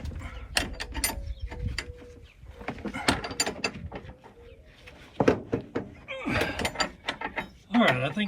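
A wrench tightens a shock bolt on a Jeep Wrangler JK during a Rancho RS5000X front shock install, giving repeated ratcheting clicks and metallic clunks in bursts, close and fairly loud, with a voice speaking intermittently.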